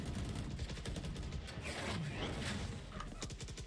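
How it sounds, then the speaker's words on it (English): Rapid, rattling bursts of gunfire in Valorant during a collegiate esports match between Marietta College and Missouri State, quiet and dense, with overlapping shots and mechanical clicks. "We're going to see some gunfire going on."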